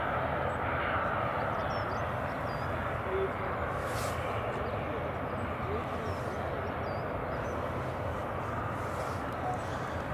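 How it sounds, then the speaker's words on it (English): Aer Lingus airliner vacating the runway at Edinburgh Airport, a steady distant engine rumble and whine holding evenly throughout. "that's the Aer Lingus, just vacating there"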